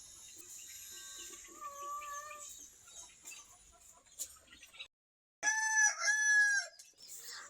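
Village chickens outdoors in winter sunshine with young chicks, a rooster crowing loudly and clearly twice amid clucking and chirping, with a short pause between the calls.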